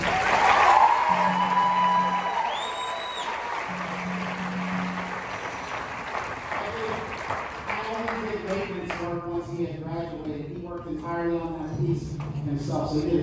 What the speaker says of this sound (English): Give Mr. Henry another round of applause.